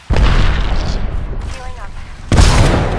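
Two loud, booming blasts from a frag grenade in the Apex Legends video game, one at the start and another partway through, with chaotic game noise and a continuous rumble between them.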